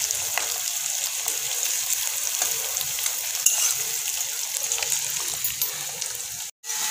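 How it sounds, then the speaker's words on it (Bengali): Onions frying with a little potato in a pan over a clay stove, a steady close sizzle and hiss with light crackles, running continuously with a brief dropout near the end. "আর পেঁয়াজ ভাজছি"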